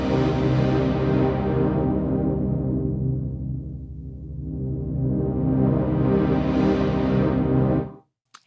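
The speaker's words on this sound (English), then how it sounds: "Right now it's set to low pass, which means it's going to let the low frequencies pass through, but it's going to cut all the high frequencies." Sustained synth sample in Logic Pro's Sample Alchemy runs through a low-pass filter whose cutoff sweeps down to a muffled, dark tone and then opens back up to full brightness, alone with no talking, cutting off abruptly at the end.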